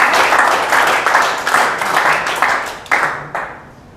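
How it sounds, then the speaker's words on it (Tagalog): Church congregation clapping together, a loud burst of rhythmic applause in roughly steady beats that thins out and stops after a few seconds. "pwede ho bang malakas sa palakpak para sa Panginoon? Malakas na pananampalataya, malakas na palakpak."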